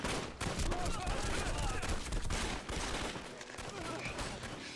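Dense, continuous gunfire from a battle scene in a Chinese anti-Japanese war action drama, with rapid overlapping volleys and shots booming loud and close throughout, while shouting voices are partly mixed in.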